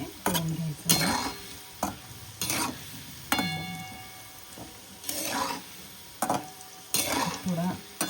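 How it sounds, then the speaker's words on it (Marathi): Homemade french fries deep frying in hot oil, a steady sizzling bed punctuated by repeated clinks and scrapes of a utensil stirring the pan, with brief tonal ringing mid-way. "आता आपण गतीने तळून घ्यायचं आहे."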